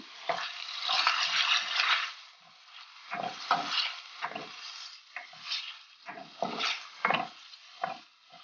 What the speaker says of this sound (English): Cook the chickpeas for about 1 minute.